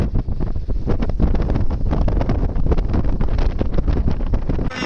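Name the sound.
strong wind at sea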